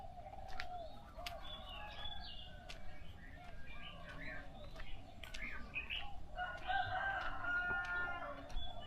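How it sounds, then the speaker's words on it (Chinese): A rooster crows on an early-morning Chiang Mai countryside street, heard at moderate distance amid a steady bed of birdsong and ambient noise, with no talking. "鸡打鸣。"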